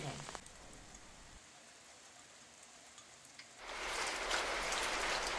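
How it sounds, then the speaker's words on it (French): Steady rain hisses and patters, starting faint and then swelling suddenly into a loud, dense downpour for the last couple of seconds. "L'orage éclate parfois et l'eau finit par tomber sous forme de pluie plus ou moins fine ou de grêle."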